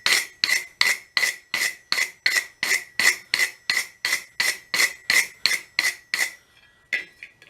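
A steady series of about twenty sharp rasping strokes, evenly spaced, as a tool brushes along a hot forged steel taper, close and crisp, ending with a few scattered lighter scrapes.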